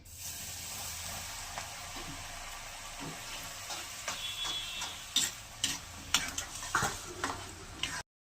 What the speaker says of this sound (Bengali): এবারে তেলটা তেতে গেছে, সর্ষের তেলে করছি, তেলটা তেতে গেছে, দিয়ে দিলাম।